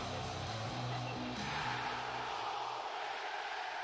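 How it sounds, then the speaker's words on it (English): Wrestling arena crowd chanting Adam Cole's name, a loud, dense roar of many voices with rhythmic low swells that fades toward the end. "Adam Cole, baby. Yeah, that what they said? yeah, that's what they said"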